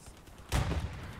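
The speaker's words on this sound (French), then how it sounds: "Ça vient d'où les tirs?" Gunfire in the video game Hell Let Loose: one sudden, sharp shot or short burst about halfway through, with a rumbling tail that lingers over a steady background hum.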